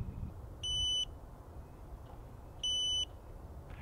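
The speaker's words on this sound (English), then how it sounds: "This beeping is telling me that I have left the remote powered up and untouched for 5 minutes" A DJI Spark remote controller gives its inactivity alarm: two identical electronic beeps, each about half a second long, two seconds apart over a quiet background hiss.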